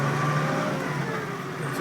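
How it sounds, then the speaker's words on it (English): A Massey Ferguson MF 399 tractor's six-cylinder engine revs steadily close by, a continuous mid-pitched drone with a brief, even rise in pitch. "It's a beautiful six-cylinder engine,"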